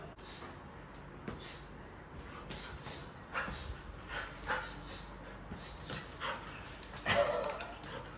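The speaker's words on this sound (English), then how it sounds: "Doggy, stop biting him." Dogs play roughly at a house build in Thailand, one a husky, with bursts of snorting, huffing breaths and scuffling bites, irregular and close, several quick flurries across the stretch.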